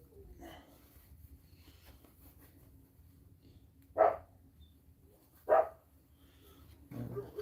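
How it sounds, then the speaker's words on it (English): Dog barking in the distance, two sharp single barks a second and a half apart with a third starting at the end, standing out over a quiet room with faint background noise. "dog's evidently found a friend."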